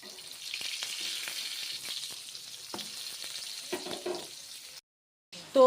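Bora fritters frying in a pan of hot oil, a steady close sizzle that runs for several seconds, then a brief silence and a louder clatter at the end.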